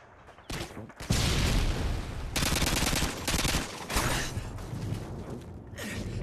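Bursts of automatic gunfire in a multiplayer shooter match, loud and dense, with rapid volleys and brief pauses, and faint breathy voice sounds in between.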